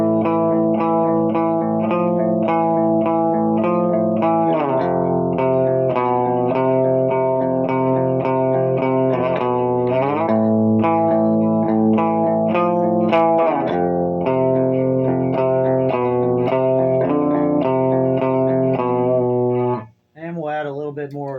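Electric guitar played through the clean channel of a Krank Rev SST amp, sustained chords ringing loud and continuous with a chorus-like shimmer, close and alone, ending in a brief cut.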